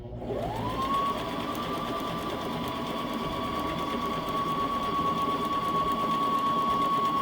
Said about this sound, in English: the presser foot is taking the fabric through